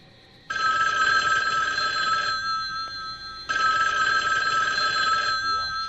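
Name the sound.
telephone ringing for an incoming call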